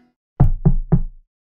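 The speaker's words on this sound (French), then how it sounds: "j'ai entendu frapper à la porte de la salle de bain." Three firm knocks on a bathroom door, evenly spaced and close, sounding hollow and alone against silence.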